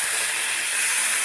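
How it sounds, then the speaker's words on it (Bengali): Oil poured into a hot pan for cooking hilsa fish gives a steady, loud, bright hiss that holds evenly for just over a second, with no voices over it. "তেল দিয়ে দিলাম"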